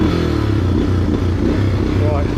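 A motorcycle engine revs hard and steadily up close while trying to pull the back wheel out of a rut on a moto camping trip, a continuous throaty drone with clatter.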